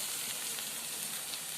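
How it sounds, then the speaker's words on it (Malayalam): Chicken hitting a hot pan sets off a dense, continuous sizzle, an even hissing crackle held close with no talk. "നമ്മളെ ചിക്കൻ ഇതിലേക്ക് ഇട്ട് കൊടുക്കാം കേട്ടോ."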